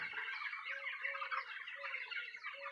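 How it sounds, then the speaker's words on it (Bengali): Chickens at a poultry farm, among them a single black hen, make steady overlapping clucking and chattering close by. Repeated mid-pitched calls come through roughly every half second with no talk. "এটা একটা কালো মুরগি দেখতে পাচ্ছি, কালো কালারের মুরগি।"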